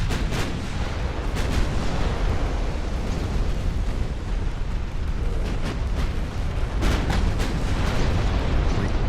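Naval battle in Ultimate Admiral: Dreadnoughts as a battleship is destroyed: a continuous roar of heavy artillery and rumbling explosions, with repeated sharp blasts punching through the dense low boom.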